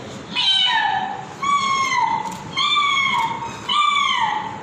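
A voice imitates a cat, giving four drawn-out meows in a row, each rising then falling, with brief pauses between.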